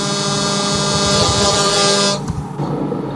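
A truck air horn in the Truckers MP driving game blares loud and sustained for about two seconds, then cuts off, leaving a low engine rumble.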